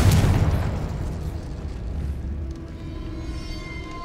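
Confringo explosive spell blast in the video game Hogwarts Legacy: one sharp, loud burst at the start that decays into a rumbling boom and fading crackle, then a low lingering hum.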